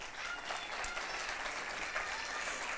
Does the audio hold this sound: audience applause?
yes